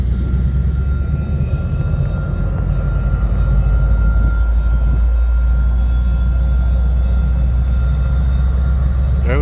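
A short three-car Exo Bombardier multi-level commuter train departs a station on the Mascouche line, a loud steady rumble and rolling drone with no talk over it.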